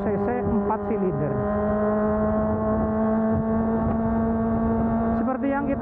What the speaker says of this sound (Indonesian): motor 4 silinder itu kan suaranya beda teman-teman